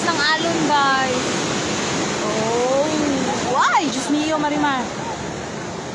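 Heavy rushing water roars steadily as waves crash and splash in a wave pool at Ocean Park, Hong Kong, while excited voices shout and talk over the churning surf.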